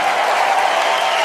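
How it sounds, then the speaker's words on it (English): Theater audience breaking into applause in a dramatized nineteenth-century play scene, a thick, even wash of clapping that stays level throughout. "The audience erupted with applause."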